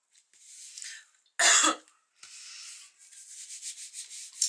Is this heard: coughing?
yes